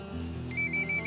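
A telephone rings with a bright electronic ringtone, close and clear, its tone pattern starting partway through over a low background hum.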